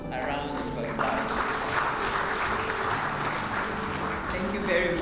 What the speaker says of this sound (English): Please give this team a round of applause.